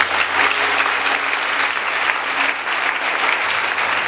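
A church congregation applauds loudly and continuously in praise of the Holy Spirit, sustained dense clapping from a large crowd that holds at an even level throughout.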